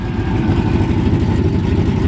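A Chevrolet LS V8 truck with a 5.3 or 6-liter engine and a Texas Speed stage 1 cam idling, giving a loud, steady, lumpy exhaust rumble with a choppy low pulse throughout, close and alone.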